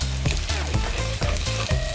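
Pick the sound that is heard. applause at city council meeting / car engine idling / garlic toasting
garlic toasting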